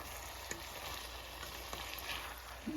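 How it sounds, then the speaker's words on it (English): Ackee and saltfish sizzles softly in a frying pot while it is gently stirred, a quiet steady crackle with a few faint clicks of the spoon against the pot. "just take your time and stir it like that"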